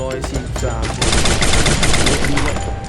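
Rapid automatic gunfire from the shooter game Free Fire, loud and dense bursts filling the whole moment, with a voice talking faintly underneath.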